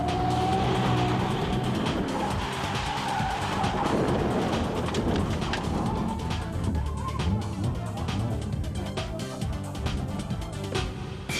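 A drift car at a 2011 D1SL Ebisu event skids out of control, with engine roar and squealing, scrubbing tires that sound loud and continuous, with commentary mixed underneath.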